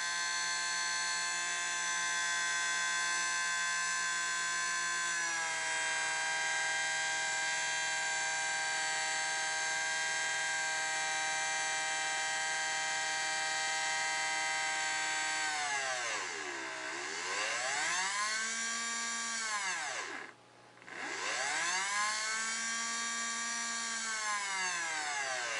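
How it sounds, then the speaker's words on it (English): An AC motor driven by a wave speed controller hums steadily with strong tonal harmonics and a slight resonant whine, its pitch dipping and sweeping in curved glides near the end with one brief drop-out. "You can hear there's a bit of a resonance coming from the motor."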